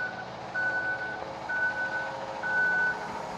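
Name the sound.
concrete truck reversing with backup beeps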